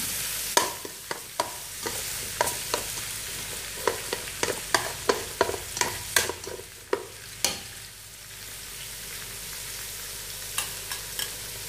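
Meat stir-fried in a pan on the stove while making braised fish with pickled mustard greens. Close, steady sizzling is punctuated by a run of sharp, irregular clacks from stirring, with no talking.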